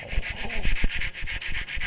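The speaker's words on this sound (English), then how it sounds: "little bit of sanding." Rhythmic back-and-forth rubbing of abrasive against copper pipe, quick repeated strokes close up, with no talking.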